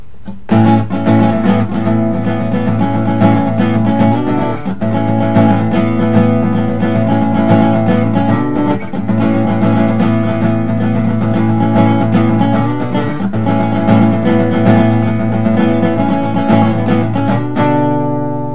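Strummed acoustic-style guitar chords from a song rock back and forth between two shapes, then slide upward into a new chord near the end, played steadily with no talking.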